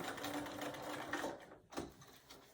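A sewing machine stitches binding around the corner of a small scrap-fabric mug rug, running steadily and close at hand with a brief pause near the end before it starts up again.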